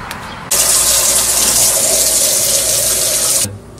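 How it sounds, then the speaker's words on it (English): Water from a tap runs steadily for about three seconds, rinsing bleach off paper: a loud, close, continuous splashing rush that starts and stops abruptly, with no talking. "Now I am going to put it in water to"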